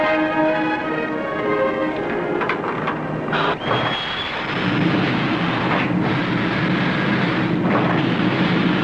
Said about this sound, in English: It's still storming, Mr. Fraser.